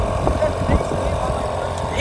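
A small boat engine, running again after sitting idle for a few weeks, gives a steady low droning rumble with a faint irregular putter, close and continuous, with a voice speaking briefly over it.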